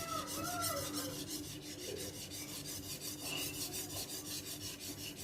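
A steady, raspy scraping of a badly rusted machete drawn back and forth across a fine sharpening stone in an even rhythm, close up and fairly quiet, with no talking.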